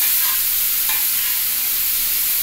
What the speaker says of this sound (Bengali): এটাকে একটু 5 মিনিট তাওয়ার মধ্যে নাড়িয়ে নেবে, মানে ভাজা ভাজা মতো।